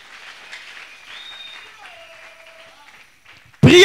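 A church congregation claps at an inauguration service, a faint, distant patter with thin vocal tones drifting over it, ending in a sudden loud close thump.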